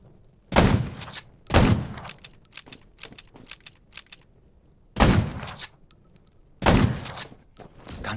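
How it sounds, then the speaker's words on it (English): Gunfire in the zombie survival video game Undawn: four sharp, loud shot bursts spaced a second or more apart, with lighter clicking and tapping sounds between them. "Gunshots will attract more zombies."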